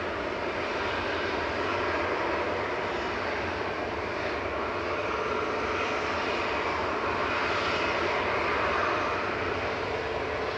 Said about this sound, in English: Ah, Lufthansa with the mouse sticker on it. Heading back to Munich